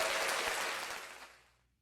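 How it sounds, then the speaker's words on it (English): Applause from a gym audience breaks out at full strength, a dense wash of clapping that holds steady briefly and then fades away to near silence within about two seconds. "right after this is applause"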